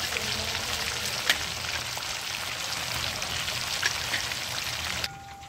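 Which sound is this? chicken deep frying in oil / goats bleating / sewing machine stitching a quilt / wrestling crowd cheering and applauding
chicken deep frying in oil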